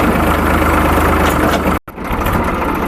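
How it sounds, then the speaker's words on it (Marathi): A farm tractor engine runs in a loud steady low drone close by, briefly cutting out before resuming, with no talking. "अविनाश भाऊच्या करून आपण ट्रॅक्टर लावला"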